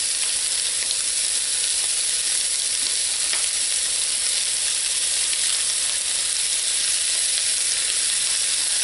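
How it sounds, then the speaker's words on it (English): Sausage browning in a hot fry pan with hot pepper for a breakfast casserole, giving a steady, dense sizzle and crackle that runs unbroken and close throughout, with faint stirring scrapes and no talk. "Just want to cook the sausage, brown it up."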